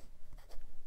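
A Penbbs 480 fountain pen with a fine steel size 6 nib writes on Clairefontaine 90 gsm paper, giving soft, close, continuous scratchy strokes in quick succession.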